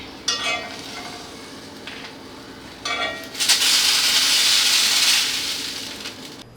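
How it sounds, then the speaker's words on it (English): Chicken dumplings frying briefly in a pan, a soft sizzle broken by a few scraping stirs, then a loud burst of hissing steam and spatter that fades near the end. "Just fry it just a little bit, about a minute or two, that's enough."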